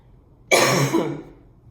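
One sharp, loud cough bursts out close by and trails off, with silence before and after.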